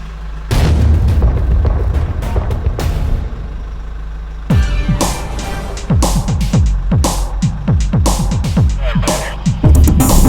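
Shots from a suppressed Henry SPD HUSH lever-action rifle strike a steel target outdoors, giving a rapid series of about a dozen muffled reports, each followed by a short ringing ping that fades quickly.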